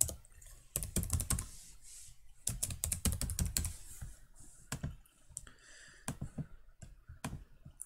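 Rapid keystrokes clatter on a computer keyboard while text is entered in FreeCAD's TechDraw workbench, close and crisp, in bursts with short pauses and no voices.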